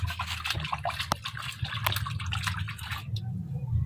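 A pet rabbit being bathed in cold water, with steady splashing, dripping and trickling close by and a continuous watery wash throughout, no speech over it.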